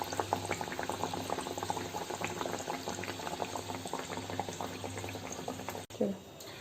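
Steady crackling and sizzling of bird's nest snacks frying in hot oil, continuous and close, with a brief clatter near the end.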